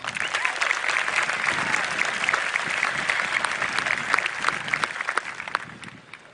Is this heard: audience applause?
yes